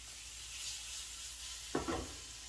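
Flatbread pizza toppings seasoned with granulated garlic sizzle in a hot pan with a steady, close hiss, broken near the end by a brief scrape of a utensil.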